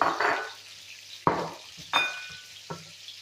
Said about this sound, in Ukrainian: Тепер я беру цибульку, висипаю сюди ці фрикаделечки.